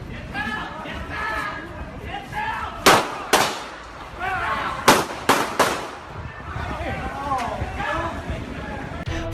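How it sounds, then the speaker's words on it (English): Gunfire captured on security footage during the Dallas Love Field airport shooting rings out as two sharp pairs of loud cracks a couple of seconds apart, over the crowd chatter and shouting that continues throughout. "a security guard or officer with a gun intervened and told everyone to get down and began shooting"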